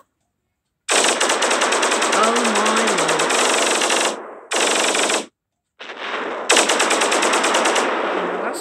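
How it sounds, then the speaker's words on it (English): A laser beam weapon fires in the Solar Smash space game, loud rapid buzzing bursts in three long runs separated by short gaps, with a brief exclamation from a player. "Sounds more like a laser beam"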